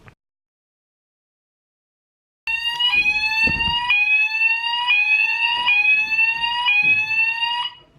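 A fire alarm sounds inside a Blackpool arcade: after a faint click and a short silence, a loud electronic tone repeats in steady rising sweeps for about five seconds, close by and with no voices over it.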